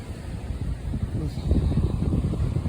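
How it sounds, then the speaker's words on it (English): Steady, strong wind of 25 to 35 mph roars and buffets the microphone, a low rumbling rush that swells louder partway through and keeps blowing without a break. "I don't know if you can hear the wind"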